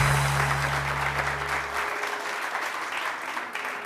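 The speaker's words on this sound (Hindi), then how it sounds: "रानी आपा के लिए बहुत सारी तालियां" Studio audience on a Pakistani morning show claps in a steady, dense wash of applause throughout, with a low musical tone fading out in the first half.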